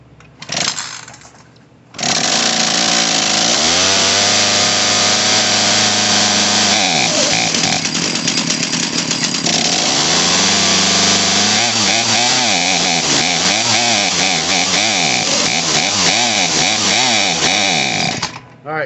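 Craftsman chainsaw engine with a carburetor needing adjustment, starting after a brief rattle and then running loud and close for a long stretch, its pitch repeatedly surging and sagging as it bogs out.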